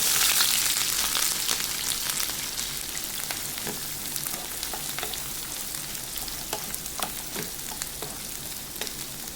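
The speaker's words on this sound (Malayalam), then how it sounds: "ഇനി നമുക്ക് ഇതിലേക്ക് ഉള്ളി അരിഞ്ഞത് ഇട്ട് കൊടുക്കാം." Chopped onion and green chilli with cumin seeds fry in hot oil for a curry, giving a steady, close, bright sizzle with occasional crackles and spits throughout, no voices.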